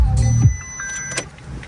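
Windshield wipers on a Volkswagen GTI motor into service position with the car in accessory mode, giving a brief electric whir followed by a soft mechanical clunk, close up and alone.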